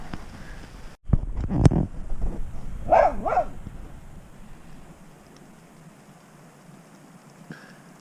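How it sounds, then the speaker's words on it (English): A dog barks sharply a few times up close at a campsite during a rainstorm, then whimpers and yips, with a second dog answering before the sounds fade into quiet. "Guard dogs keeping us safe from the storm."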